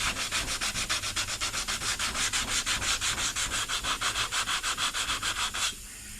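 A sanding block works the trim of a 1948 Chevy truck with fast, rhythmic back-and-forth rasping strokes, loud and close, and the scrubbing stops abruptly near the end.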